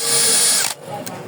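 A brushless 20V cordless screwdriver from Ingco runs with a loud, steady high whine for just over half a second, then cuts off abruptly, followed by a quieter brief mechanical rattle and click.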